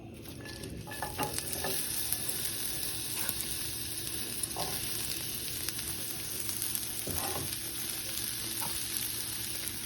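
Onions fry in hot oil for a phool makhana curry, giving a steady, close sizzle that runs throughout, with a few soft stirring knocks rising above the hiss.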